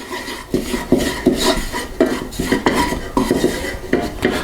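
A butter and flour roux for béchamel cooked over lowered heat, stirred in a pan: about eight rhythmic, close scraping strokes of a utensil against the metal, loud and regular, with no voices.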